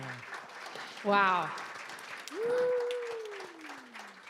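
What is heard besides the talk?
audience applause for the tech team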